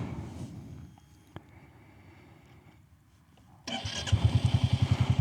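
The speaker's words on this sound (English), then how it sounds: "let the engine run" A Royal Enfield Classic 350 motorcycle sits quiet with faint clicks before its engine fires up loudly and settles into a steady, thumping single-cylinder idle with an even pulsing beat.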